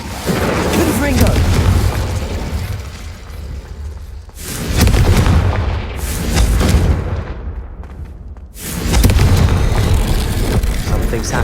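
Confringo spell blasts in the video game Hogwarts Legacy boom in heavy, loud waves, with rumbling explosions rolling one after another and a brief quieter gap between the bursts.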